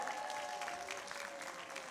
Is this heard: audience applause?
yes